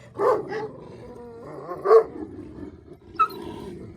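A dog gives a few short, sharp barks and yips spaced out over a few seconds, fairly close and clear against a quiet background, with no talking.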